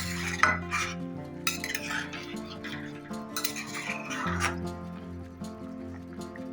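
Chicken curry stirred in a pot, with soft scraping and light metallic clinks of a spoon against the vessel. The sounds are quiet and intermittent under steady background music.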